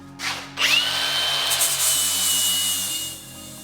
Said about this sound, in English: I'm gonna grind some of these welds down, see what they look like inside